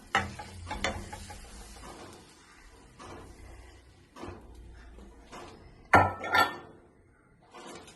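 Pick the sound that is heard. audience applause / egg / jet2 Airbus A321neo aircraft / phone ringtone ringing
egg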